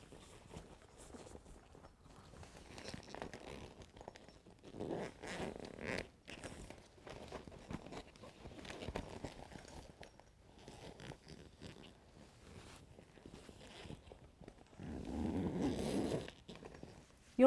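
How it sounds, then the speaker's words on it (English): A zipper on a clear ISOPOD access-port compartment is pulled open and shut in faint, repeated rasping runs with soft handling noises and quiet pauses between them. "We can insert our item into this clear compartment through the zipper and shut it"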